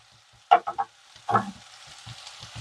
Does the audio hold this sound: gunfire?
no